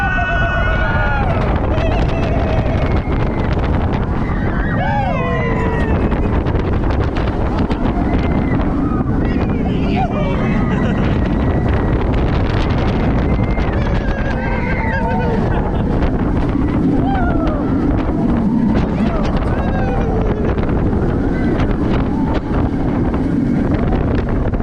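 Riding the Emperor roller coaster at SeaWorld San Diego, a loud continuous rush of wind and roaring track noise across the whole ride, with riders' screams and shouts rising over it.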